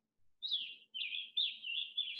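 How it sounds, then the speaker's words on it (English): Great crested flycatcher in oak forest calling, a series of clear, rising then sustained whistled notes in quick succession, close and isolated against silence. "This is a great crested flycatcher."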